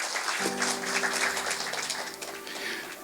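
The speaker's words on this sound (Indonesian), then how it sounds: "Tepuk tangan untuk Tuhan yang luar biasa." Congregation at a Sunday morning church service applauding, a steady moderate wash of clapping with a faint sustained musical tone beneath it.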